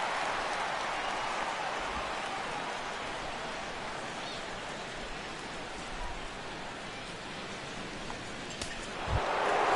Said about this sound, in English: Mookie Betts steps in here to lead off the 6th as the rain continues to fall here